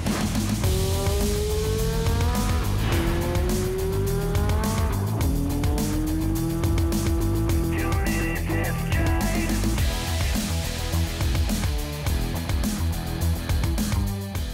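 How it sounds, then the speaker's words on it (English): A 2018 Audi TT RS sports car drives hard, its engine note climbing repeatedly through loud rising revs, with brief tire noise, steady and close throughout. "That's a 2018 Audi TT-RS, a true sports car"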